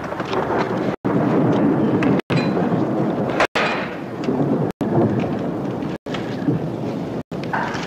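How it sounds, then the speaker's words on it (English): A thunderstorm in an Old West setting: steady heavy rain and wind with rolling thunder that swells loudly midway, broken by several abrupt short cuts. "Weather coming up. Sounds like a storm someplace."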